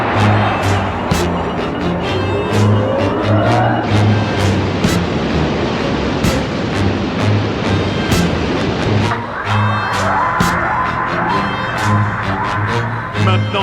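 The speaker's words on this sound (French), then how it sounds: "Allumage et mise en fonction des moteurs." Spacecraft capsule engines ignite and run in an animated series, giving a loud, steady broadband roar with a low droning hum and scattered sharp crackles, continuous throughout without speech.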